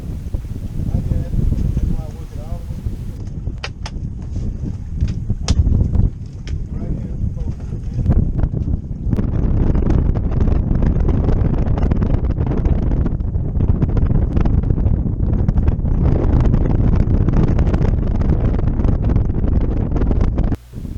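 Strong, gusty wind buffets the microphone on a fishing boat near Freeport, Texas, during a flounder trip, a loud continuous roar with rumbling gusts throughout, and voices can be heard under it.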